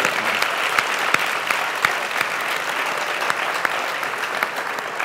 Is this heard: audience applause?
yes